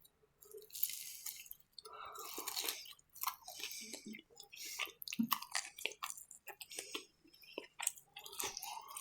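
Close, crunchy chewing and biting of McDonald's chicken wings and fries, with repeated wet crunches and smacks in a quiet room, one eater at a time with short pauses.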